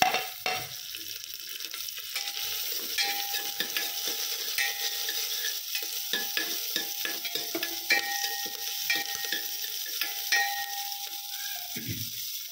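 Finely chopped onion fries with cumin, cinnamon, curry leaves, garlic and chilli for dal khichadi, giving a steady close sizzle with frequent scraping stirs across the pan, alone with no talk.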